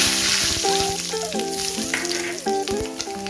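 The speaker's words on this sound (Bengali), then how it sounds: "এবার ওই তেলের মধ্যেই আমি 5 ফোড়ন আর শুকনো লঙ্কাটা দিয়েছি" Panch phoron seeds and dried red chilli sizzle and pop in hot oil for a fish-head chorchori with potato and aubergine, a steady close crackle with a few clinks of utensils and no voices.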